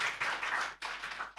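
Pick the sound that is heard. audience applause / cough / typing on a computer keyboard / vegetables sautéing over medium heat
audience applause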